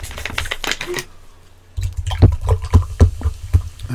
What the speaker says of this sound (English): Diet Coke pouring time.